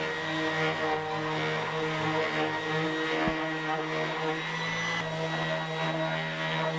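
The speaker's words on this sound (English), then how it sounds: "I just grabbed my rigid disc sander and some 220 grit" Rigid disc sander working a canoe paddle with 220 grit sandpaper, a steady close-up motor whine and abrasive hiss that holds level throughout with slight wavering.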